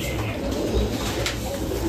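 Close, soft pigeon cooing, a continuous low warble from a few birds with a faint background hum and no voices.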